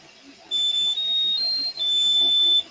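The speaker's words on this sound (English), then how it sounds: "a little detector comes down, and when the bed touches it, it will bleep at me" Steady electronic beeping from the bed level detector on a craft machine, a loud high-pitched tone that holds for over two seconds with short breaks and shifts slightly in pitch. Faint background noise sits beneath it.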